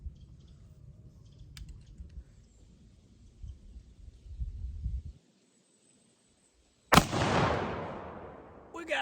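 A Kentucky black powder pistol fires once outdoors, a sharp, loud blast with a long hissing tail after a moment of silence, preceded by low rumbling background noise.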